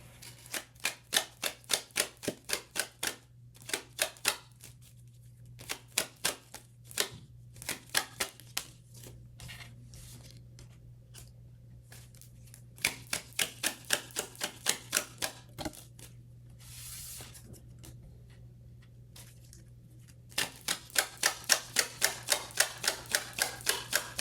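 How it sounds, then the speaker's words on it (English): Tarot cards being shuffled by hand in repeated riffling bursts of rapid crisp clicks, several runs separated by short pauses, close and distinct over a faint steady hum, with no talking. "Shuffle it back in."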